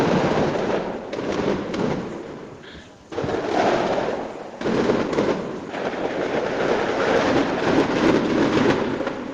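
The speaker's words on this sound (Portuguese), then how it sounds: "foi dado início a uma intensa queima de fogos" Intense fireworks set off across a neighborhood, a dense, continuous crackling barrage of bursts and pops with a brief lull midway, heard from nearby outdoors.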